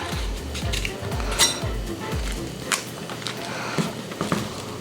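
Small knife cutting the white pith out of a pepper on a board, a run of quick close knocks and scrapes at a steady rhythm, then a few lighter clinks of kitchen utensils.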